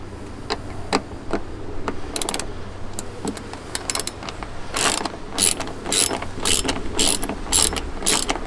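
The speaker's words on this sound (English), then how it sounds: "what you're going to take is this a ratchet with a Torx 20 T20 bit, and that's going to take these 4 screws out here" A ratchet fitted with a Torx T20 bit clicks steadily while backing out the screws of a Ford Raptor third brake light, the loud pawl ticking coming in fast repeated runs with no talking.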